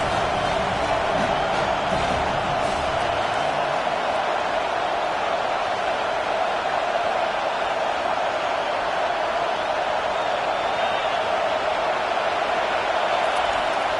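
Steady stadium crowd roar from the Madden football video game, a dense, continuous wash of cheering voices that holds at an even loudness throughout.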